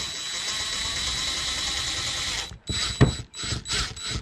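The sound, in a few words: screws driven into Tacoma door speaker mount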